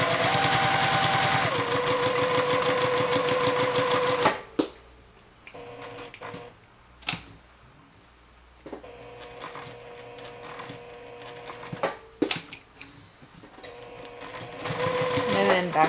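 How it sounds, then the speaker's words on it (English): Sewing machine stitching a lining, with a fast rattling run of stitches at the start, then pauses and short bursts as the fabric is turned at each corner, close and clear with quieter handling noises between. "I leave my needle in the down position, and then I rotate, sew down, and do the same again at all the corners."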